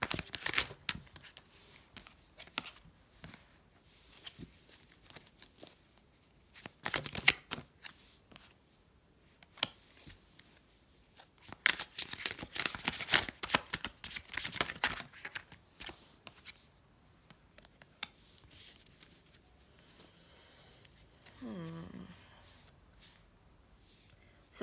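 Tarot cards shuffled by hand in short riffling bursts, with a louder stretch of rapid shuffling midway and quieter handling between; a faint voice briefly surfaces near the end.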